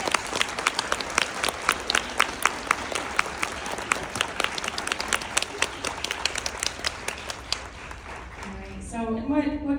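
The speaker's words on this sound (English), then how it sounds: "round of applause for our" A conference audience claps in a round of applause for speakers at a recycling event, many hands forming a dense, even patter that fades out near the end as a voice begins.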